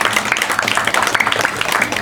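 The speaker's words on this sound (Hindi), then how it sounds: "बच्चे ताली लगा दो" Children clapping along with a street monkey performer's show, a dense patter of hand claps over outdoor crowd noise, with voices mixed in.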